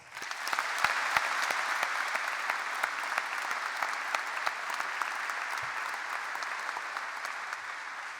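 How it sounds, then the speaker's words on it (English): Steady, full applause from a large crowd at a high school graduation ceremony, even and unbroken throughout with occasional louder claps near the front. "let's give them a round of applause"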